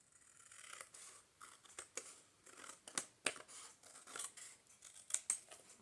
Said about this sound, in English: I'm just going to use the scissors.